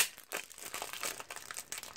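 Continuous crinkling of plastic packaging being handled and pulled open, close and fairly loud, with irregular crackles throughout and no speech.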